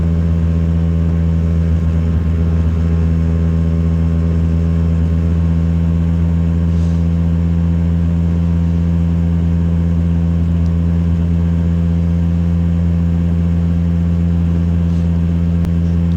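A Lambretta GP125 scooter, about 10 horsepower, held at full throttle on a coastal ride toward Whitby. Its engine gives a loud, steady, buzzing drone mixed with wind rush that stays unbroken for the whole stretch, with no talk.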